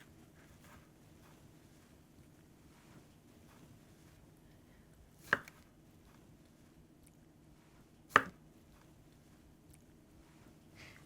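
Two sharp knife cuts slice through a log of rugelach dough on a board, each a single crisp chop separated by a few seconds of quiet room tone.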